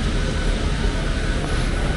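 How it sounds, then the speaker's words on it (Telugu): Akasa Air passenger airplane just after landing in Delhi, a steady loud broadband engine roar and hiss filling the whole moment with no talk. "చాలో మనం వచ్చిన ఫ్లైట్ ఇదే ఆకాశ ఎయిర్"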